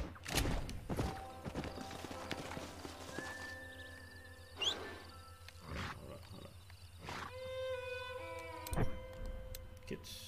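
A Kentucky Saddler horse in the video game Red Dead Redemption, with hooves clip-clopping in scattered sharp knocks amid game ambience and occasional tonal cues, moderately loud and close.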